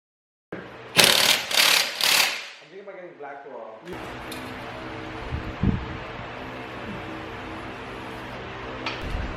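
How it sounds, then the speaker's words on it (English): A standard low-profile hardware-store floor jack raises the rear of a Porsche 996 C4S. A few loud whooshing strokes come first, then a steady mechanical clicking and grinding hum as the jack works, close and continuous. "Alright, so we're jacking up the rear now."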